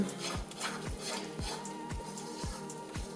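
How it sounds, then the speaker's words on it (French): Wet cake batter with two eggs and honey is mixed in a bowl, a utensil scraping and knocking against the sides in a steady, regular rhythm of roughly two strokes per second, quiet and close. "on mélange tous ces ingrédients humides"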